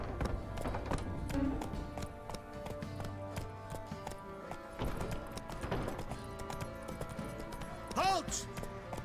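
Hooves of Roach, a horse in the video game The Witcher 3, clip-clopping at a walk in an even rhythm under game music and some voices, with a short whinny near the end.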